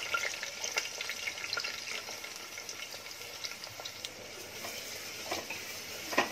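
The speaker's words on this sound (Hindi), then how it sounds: "तेल गरम हुआ, अब इसमें प्याज डाल रही हूँ।" Onions frying in hot oil for a Konkani-style mixed sprout curry, a steady close sizzle and crackle with faint scattered pops running throughout, no voices.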